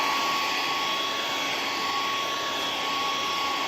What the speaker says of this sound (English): just preheat the parts a little bit with my hairdryer